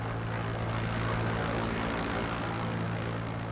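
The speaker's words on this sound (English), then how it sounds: "This helicopter's the first for days." A military helicopter in Afghanistan gives off a loud, steady engine and rotor drone with a constant low throb. It sounds close and unbroken throughout, with no voices.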